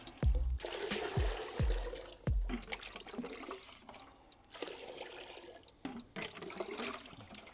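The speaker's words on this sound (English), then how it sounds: "dump in the water." Water splashes and gurgles as it is poured into a 5-gallon bucket up to the 5-gallon mark for making lime wash, with a few low thumps at the start and a steady rushing flow throughout.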